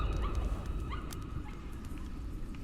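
A small dog in the horror game Layers of Fear gives faint, brief yips and whimpers over a low rumbling background.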